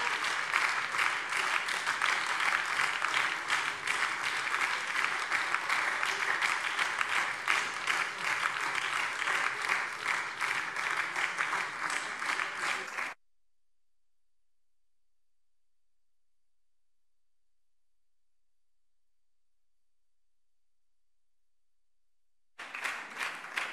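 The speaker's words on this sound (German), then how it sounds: "Applaus" Parliament plenary session applause, dense steady clapping from many hands for about thirteen seconds, then silence before clapping resumes at the end.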